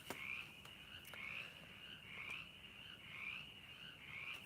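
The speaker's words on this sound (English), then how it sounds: "there's frogs a hollering" Frogs croak in steady repeating calls on an evening outdoors, faint and distant, with whippoorwills calling alongside in the quiet background.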